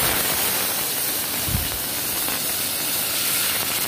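Mustard seeds and spices for a tempering crackle and sizzle in hot oil for drumstick-leaf dal, a steady close hiss with scattered pops, no voices.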